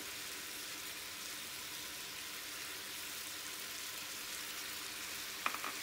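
Chicken gizzard and liver fry with a barbecue spice mix, giving a steady, soft sizzle that stays even throughout, with one faint utensil clink near the end.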